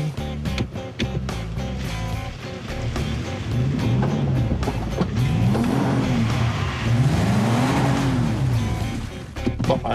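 A 2007 Toyota FJ Cruiser crawls off-road in a very low gear, its engine droning steadily up close with rising and falling revs and a loud, continuous rumble throughout.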